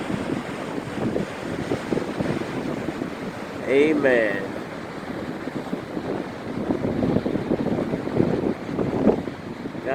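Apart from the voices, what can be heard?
high ocean waves and wind at Daytona beach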